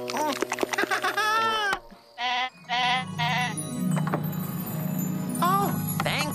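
Several loud, wavering sheep bleats sound close by, some in quick bursts, followed by lower bleating over a busy background.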